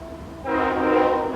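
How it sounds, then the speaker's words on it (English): A train horn from a passing train sounds loud and sustained, starting abruptly and holding steady as a blaring tone. "sorry about the train"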